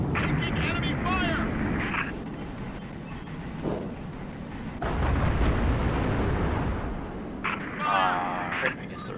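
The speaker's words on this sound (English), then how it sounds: "Taking enemy fire!" Enemy weapons fire in Halo: Reach, a sustained, dense barrage of shots and blasts that runs loud through the whole stretch, with a player's voice cutting in over it at times.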